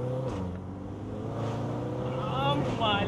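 A 2016 BMW M6 accelerating, its engine drone climbing in pitch toward the end while someone talks over it.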